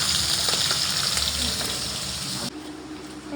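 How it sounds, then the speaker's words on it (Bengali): A home-cooked fish curry with potato and taro sizzles and bubbles loudly in a pot, with a dense, hissing frying sound that drops away abruptly near the end. "এই যে দুপুরের জন্য এখন রান্না হচ্ছে মাছ, আজকে মা ঘরেই চাপিয়েছে, মাছের ঝোল করবে আলু কচু দিয়ে"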